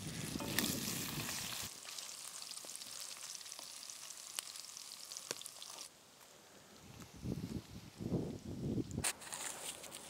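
Bacon frying in fat in a pan for a liver dish, a faint steady crackle with soft rustling, stirring bursts toward the end.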